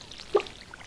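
Watering crops with a watering can in the Stardew Valley video game gives a single short splashing pour, brief and moderately loud over a soft background of game ambience.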